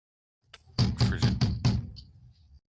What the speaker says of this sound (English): So, Frigid, you wake up to the sound of banging on the door.